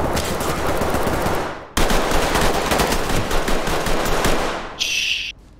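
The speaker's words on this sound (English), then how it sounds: "I can't see where you're shooting from." Sustained automatic gunfire in the tactical shooter video game Ready Or Not, loud rapid bursts, one cut short and resumed, then a brief high ringing tone at the end.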